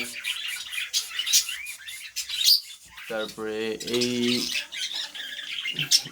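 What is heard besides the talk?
Bengal finches chirping in cage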